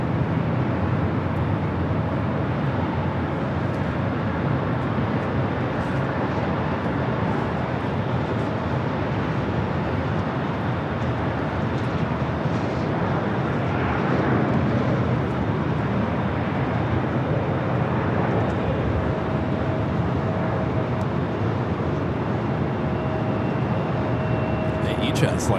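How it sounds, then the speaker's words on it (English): A Japan Airlines Boeing 787-9 Dreamliner takes off from runway 24 Left at LAX, bound for Osaka, producing a steady, loud jet roar that fills the whole stretch while people talk over it. "We'll be taking off to Osaka on the 787-9 Dreamliner."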